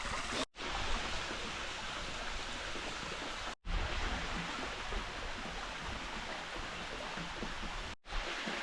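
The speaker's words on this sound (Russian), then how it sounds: "добрался до водопада, к которому шел" Mountain waterfall in a secluded highland spot in November, a constant close rushing roar of falling water that holds steady throughout, broken only by a few abrupt cuts, with no voices.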